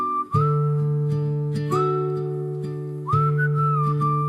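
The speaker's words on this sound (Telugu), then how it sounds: "కుక్కర్ మూత పెట్టి 5 విజిల్స్ వచ్చే వరకు ఉడికించాలి" A pressure cooker cooking chicken haleem whistles loudly and steadily, three sustained hissing blasts in a row with short gaps between, near and alone.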